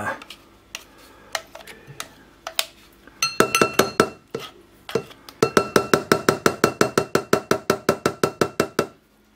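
Dishes and utensils being cleaned up after making garlic paste: a few scattered clinks, then a long run of rapid, evenly spaced metallic taps against glass or a bowl, close and loud.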